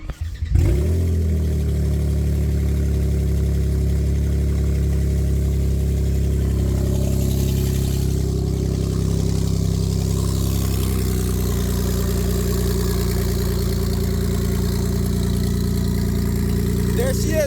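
Close up, a Kia Stinger fitted with a big turbo kit idles in a deep, steady rumble that holds level throughout with a slight rise in pitch midway.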